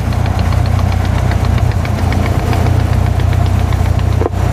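Cessna 172 aircraft engine idling on the ground during an operational check, a steady, loud, close rumble with a slight knocking pulse that runs throughout and dips briefly near the end.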